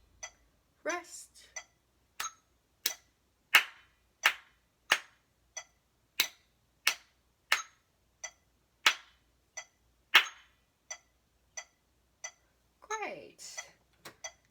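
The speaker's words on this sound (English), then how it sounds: "I want you to clap with metronome" Sharp hand claps keep a steady rhythm with metronome ticks at about 90 beats per minute, evenly spaced and close, with brief bits of speech near the start and the end.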